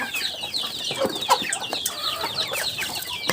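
Caged chickens clucking close by, a busy run of short, overlapping clucks and squawks from several birds with no talking.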